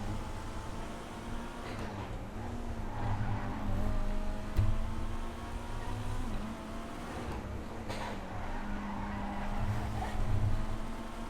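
A Flash GT sports car in GTA 5 driven hard around a track, its engine a steady mid-pitched drone that shifts slightly in pitch through corners, moderately quiet with faint tire noise and no talk.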